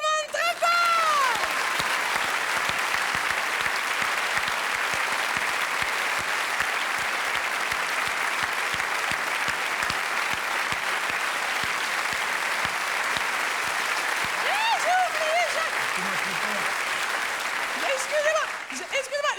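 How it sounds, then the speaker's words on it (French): A theatre audience applauds loudly and steadily, with sustained clapping that carries for the whole stretch, scattered voices and cheers rising above it near the end. "Je vous demande d'applaudir tout le monde très fort!"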